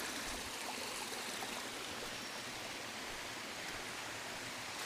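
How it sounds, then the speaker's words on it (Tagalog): A waterfall near a beach in the mountains of Quezon, heard as a dense, steady rushing roar of falling water, close and unbroken, with no talk. "Eto nga yung falls dito"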